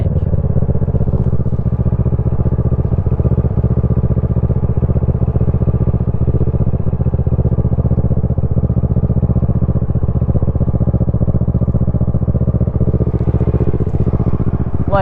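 A Kawasaki Ninja 650 parallel-twin idles close by, a loud, steady, throbbing engine note with a faint clatter, holding constant before a brief rev near the end.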